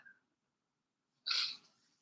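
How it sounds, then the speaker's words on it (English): A single sharp sneeze bursts out after a brief quiet moment, close and fairly loud, trailing off into a short breathy tail. "I just feel like I got to sneeze."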